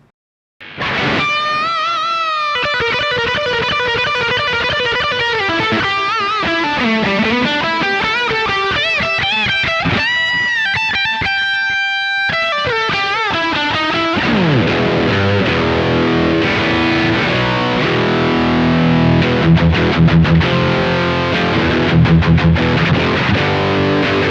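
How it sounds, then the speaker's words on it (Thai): A heavily distorted Suhr Classic T Telecaster-style electric guitar plays loud, sustained chords and riffs with no one talking, the tone growing thicker and grittier toward the end. "เดี๋ยวเรามาลองฟังเสียงแตกแบบแรงๆเลย"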